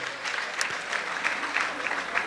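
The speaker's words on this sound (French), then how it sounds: "applaudissements pour ces promotions, s'il vous plaît" A graduation ceremony audience at a university applauds the graduating classes, a brief, even spread of many hands clapping together at a moderate, slightly distant level.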